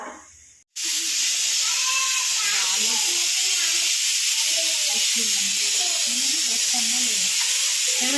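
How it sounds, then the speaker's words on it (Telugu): Spices for a tempering hit hot oil with a sharp start and then sizzle loudly and steadily. Voices talk faintly underneath. "పోపు పెట్టేద్దామా"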